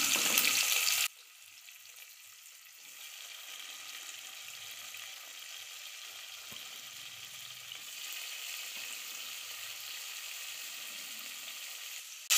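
Two large onions and green chillies sizzling in hot oil in a pan, a loud hiss for the first second settling into a steady, softer frying crackle with no talk.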